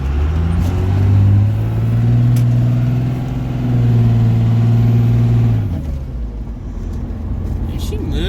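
A truck engine, its brakes spongy and power steering gone, revs up and holds a loud, steady drone while driving, then drops back to a lower idle-like rumble near the end. Faint voices may sit under it.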